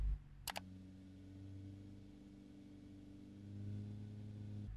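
A car engine held at a steady 1500 RPM during a no-gauge fuel pressure check gives a continuous low idle-like hum with steady harmonics, after two brief clicks at the start.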